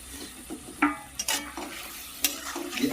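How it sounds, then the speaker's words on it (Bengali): Fried potatoes being sautéed with spices in a pan for a koi fish curry, close sizzling under intermittent scraping strokes and a few sharp spoon knocks against the pan, no voices. "আলু আর মশলাকে আরেকটু সময় ধরে কষে নেব"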